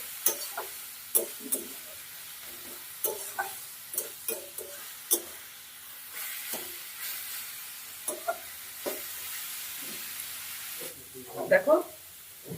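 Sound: vegetables frying in a pan

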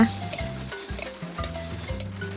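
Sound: stir-frying grilled pork neck with dried chilies

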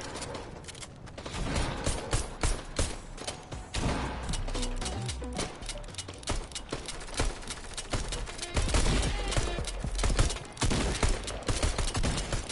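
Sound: gunfire in a PS4 shooter video game

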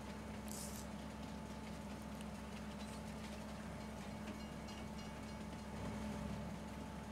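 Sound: train running in video game Farming Simulator 22

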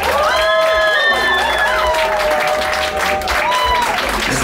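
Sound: festival audience applauding and cheering in reading tent

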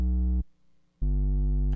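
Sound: distorted synth chord

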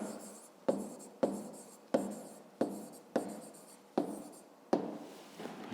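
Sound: writing down the answer by hand

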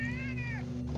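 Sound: cat meowing

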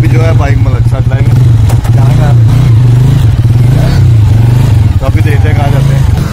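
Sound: motorcycle being ridden

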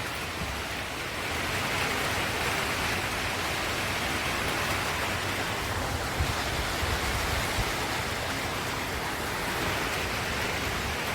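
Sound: heavy rain falling in a village

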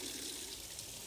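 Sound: pouring hot water from a tap

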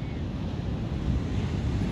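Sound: crashing ocean waves on a beach

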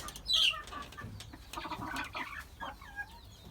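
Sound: hybrid chickens and rooster clucking in coop

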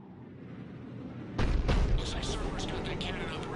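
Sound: cannons firing in video game Mass Effect 3

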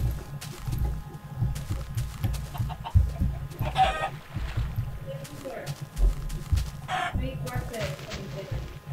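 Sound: chicken clucking, from the video game Minecraft

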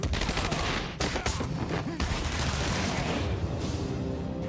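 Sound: gunfire in Batman: Arkham Asylum video game

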